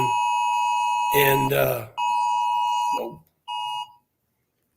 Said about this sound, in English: my phone's sounding off an alert here